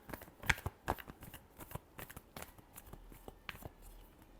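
Tarot cards are shuffled by hand in a string of quick, crisp riffles and slaps, irregularly spaced and close, quiet overall with no talking.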